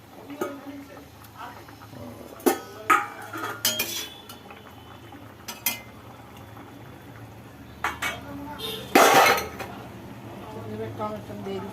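Fried katla fish pieces placed one by one into a simmering pan with potatoes, bubbling softly under scattered clinks and scrapes of a utensil against the pan, with a voice talking throughout.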